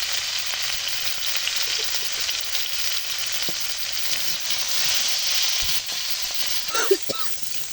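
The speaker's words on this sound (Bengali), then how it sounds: "ভালো করে ভেজে নিলাম, এখন জল দিয়ে দিচ্ছি।" Hilsa fish with turmeric fries hard in a pan for a drumstick curry, giving a loud, dense, close sizzle that holds steady throughout, with a few utensil knocks near the end and no speech.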